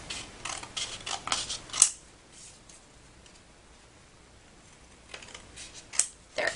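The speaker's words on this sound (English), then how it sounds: "I'm going to just cut the edge here a little bit" Several quick scissor snips trim the edge of a handmade holiday card, close and crisp, followed by a pause and two more faint cuts near the end.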